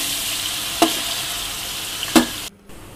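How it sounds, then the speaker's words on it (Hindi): Ginger garlic paste fries in a pot for Pakistani chicken haleem, a steady close sizzle broken by two distinct stirring scrapes, then cutting off sharply near the end. "अब इसको मैं अच्छे से थोड़ा सा फ्राई कर लूँगी जिंजर और गार्लिक को।"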